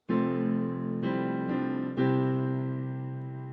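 Piano chords from a song, the main progression with an added lick, ring out close and loud, four sustained chord strikes about half a second to a second apart, the last one left decaying, with no voices.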